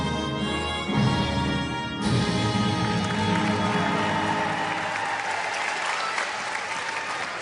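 A crowd at La Crosse Center applauds after the national anthem at a 2021 WIAA state semifinal game. A final sustained musical tone fades into loud, dense clapping and cheering that continues throughout, full and close.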